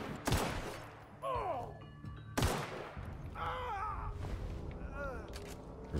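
Gunfire in The Outer Worlds: two sharp, loud shots a couple of seconds apart, mixed with in-game voices and groaning.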